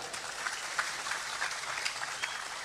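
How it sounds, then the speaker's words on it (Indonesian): Audience clapping during a religious lecture by an Islamic preacher in Indonesia: a steady patter of hand claps with scattered sharper claps across the whole span, with no talking over it. "Boleh tepuk tangan."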